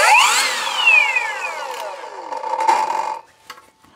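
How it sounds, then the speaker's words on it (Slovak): Parkside Performance PPHKSA 40-Li A1 40 V cordless circular saw running unloaded and spinning down as it cuts out, a loud whine falling steadily in pitch over about three seconds before fading to near silence. "píla sa začína vypínať."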